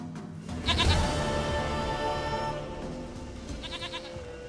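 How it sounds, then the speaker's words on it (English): A goat in The Witcher 3 bleats twice, near and clear: a strong quavering cry near the start and a softer one toward the end, over a steady low ambient background. "Goat of mine, dearest, sweetest goat."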